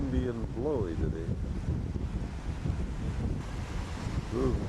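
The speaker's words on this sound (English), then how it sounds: "Sure is windy and blowy today." Steady wind blows outdoors by the water near a small island and a fish wheel, with broad rumbling microphone buffeting throughout and brief voices at the start and end.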